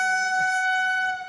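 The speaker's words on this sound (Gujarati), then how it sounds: "જો અમારે અહીંયા ટ્રેન આવી ગઈ છે. કઈ છે? બાંદ્રા એક્સપ્રેસ." The Bandra Express blows a loud, sustained multi-tone horn as it pulls into a station, the steady chord held close by for the whole moment before it fades slightly at the end.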